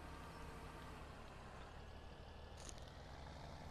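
Tractor engine in a Farming Simulator game drones at a steady, constant level throughout, with a brief hissing burst near the end.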